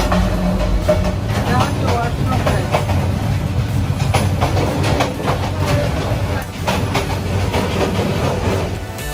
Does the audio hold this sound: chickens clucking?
no